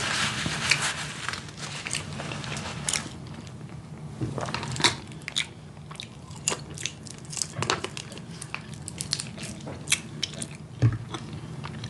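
Close, crunchy chewing and biting on a home-cooked macaroni and cheese meal, with soft mouth sounds and occasional sharper crunches throughout, no talking.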